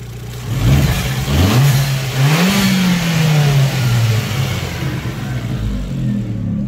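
Close-up engine of a car fitted with a Bonalume switchable dump valve, revving up and down through a rising then falling pitch, loud with a rushing, hissy air-release texture throughout and no voices.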